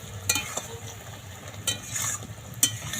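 Sugar syrup with jamrul fruit bubbles in a pan as it simmers. A soft, continuous sizzle runs under several sharp clinks of a spoon or spatula against the pot, with no talking.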